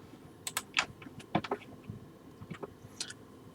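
A password typed on a computer keyboard: a quick irregular run of soft, close key clicks with a few louder taps, no talking.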